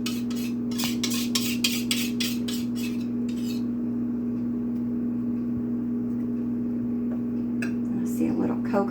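A whisk beats cake batter for a Texas chocolate sheet cake in a mixing bowl. Quick metallic clinks come in a steady run for about three seconds, then stop, leaving a low appliance hum and a few later scrapes.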